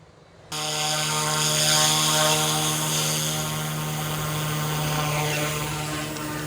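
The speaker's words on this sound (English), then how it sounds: "I decided I'm flying only the small helicopters" A small radio-controlled helicopter spins up abruptly after half a second of quiet, then holds a loud, steady whining buzz of motor and rotor for the rest of the flight, with only slight swells in level.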